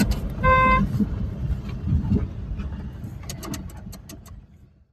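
A single car horn honk sounds briefly at the start over a steady engine rumble in Kuwait, followed by clicks and fading road noise.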